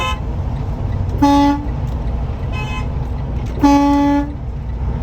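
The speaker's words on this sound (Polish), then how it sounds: "Też umie trąbić, kurwa." A car horn honks twice amid downtown Chicago traffic, the second blast slightly longer, both loud and close above a constant rumble of street noise.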